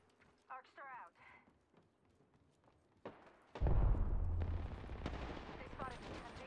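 Video game gunfire: after a few scattered shots under a voice, a loud, sustained burst of rapid automatic fire erupts and rattles on, with the speaking continuing over it.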